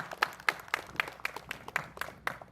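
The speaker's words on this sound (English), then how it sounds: "Please, a round of applause," Sparse, slow claps at a Bissa cultural durbar, about ten sharp separate hits spaced roughly a quarter second apart, fairly faint and without talk.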